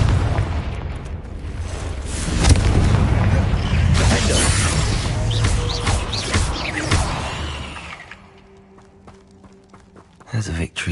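A Confringo blasting curse explodes in a Harry Potter video game, a loud rumbling blast with crashing debris that rolls on for several seconds before dropping away to quieter game sounds.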